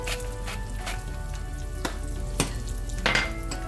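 Baby potatoes with paprika frying in a pan over raised heat, a steady close sizzle with a few brief clatters as they are turned, no speech.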